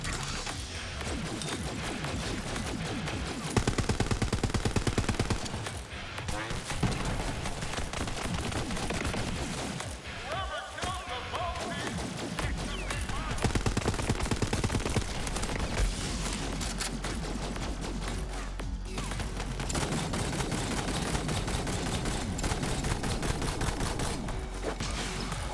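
Dense gunfire in Borderlands 3, loud, near-continuous automatic shooting with crashes and impacts layered throughout a long, chaotic firefight.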